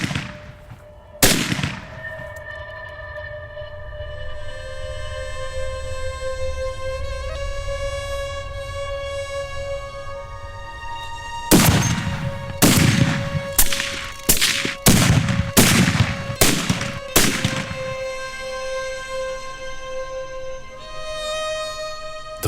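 Sniper rifle shots in a military setting: one sharp, loud crack early, then a rapid cluster of five or six sharp reports in the middle, set over a sustained tonal music background.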